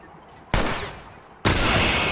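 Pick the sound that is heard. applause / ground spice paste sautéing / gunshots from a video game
gunshots from a video game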